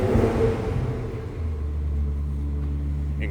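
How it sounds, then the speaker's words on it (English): A 2004 Ferrari 360 Spider F1 engine runs close by with a low, steady rumble and harmonic drone, easing briefly before settling into an even idle-like tone, no talking. "And that famous Ferrari sound."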